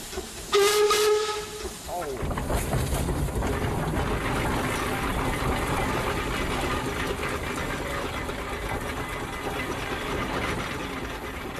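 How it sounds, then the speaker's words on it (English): A steam engine's whistle shrieks in a short loud blast close by, then gives way to a long steady hiss of escaping steam with mechanical chuffing underneath. "Want to blow the whistle?"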